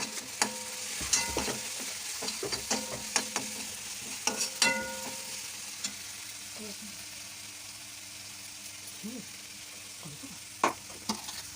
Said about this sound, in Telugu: దీన్ని ఒకసారి ఇలా కలిపేసుకోవాలండి